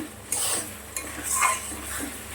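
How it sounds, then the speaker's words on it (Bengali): A spice paste of dried red chillies and ginger being stir-fried in a pan, with a few clinks and scrapes of a utensil against the metal over a faint sizzle, close and brief. "এবার মশলাটা বেশ ভালোক্ষণ কষিয়ে নেব।"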